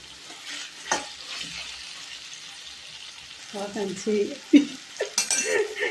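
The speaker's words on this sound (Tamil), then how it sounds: "கத்திரிக்காய் நல்லா வதங்கி வரட்டும்." Brinjal stir-fried in a pan for a vegetable kurma, with a spoon scraping and clinking against the pan over a low sizzle. The stirring grows busier and louder in the second half with several sharp knocks.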